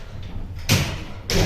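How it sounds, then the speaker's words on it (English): Lift doors in a modernised Foster and Cross car park lift slide shut, two close loud bursts of rumbling motion, one starting mid-clip and another near the end, over a low background hum. "Please mind the door. Doors closing."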